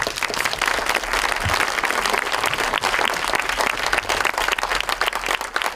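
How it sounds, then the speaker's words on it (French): Audience applause after a school theatre performance, a dense, steady wash of many hands clapping throughout, loud and sustained without a break. "merci à tout le public d'applaudir"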